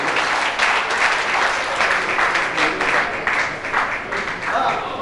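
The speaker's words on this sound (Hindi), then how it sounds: "एक बार जोरदार तालियों से इनका स्वागत करना चाहिए।" Loud, sustained applause from a large audience at an evening stage event honouring longtime contributors, steady dense clapping filling the whole stretch with a faint voice or two underneath.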